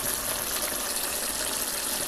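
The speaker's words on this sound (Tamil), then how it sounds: "குழம்புக்கு தேவையான அளவு தண்ணி தேங்காய் பால் சேர்த்துக்கிடுவோம்" Water splashes steadily into frying masala in a pan while cooking Tamil chicken kulambu, a loud, continuous gushing pour with no talk.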